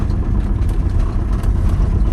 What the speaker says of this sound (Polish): To jest po prostu zajezdnia autobusowa i tutaj przyjeżdżają takie autobusy i sobie dolewają wody.